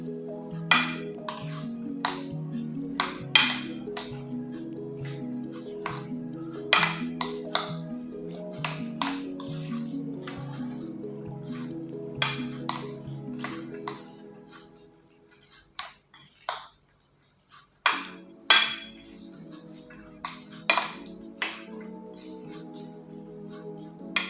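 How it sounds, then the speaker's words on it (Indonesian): Utensil clinking and tapping against a pan while a mixture with ground garlic is stirred, with sharp irregular pings scattered over a steady background hum, close and fairly clear. "Setelah itu aduk lagi hingga merata."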